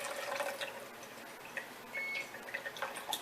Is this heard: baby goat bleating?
no